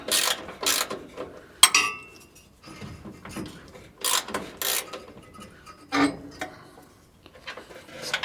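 A ratchet clicks in short bursts while tightening the steering adjuster on a 1946 Chevy truck, close and crisp, with pauses and faint rubbing between pulls; no talk.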